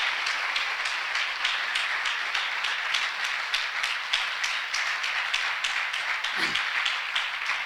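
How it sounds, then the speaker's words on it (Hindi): A church congregation at a New Year's service claps loudly and steadily in a fast, even rhythm, filling the room for several seconds. "आए जोरदार ताली बजा के प्रभु को धन्यवाद दें।"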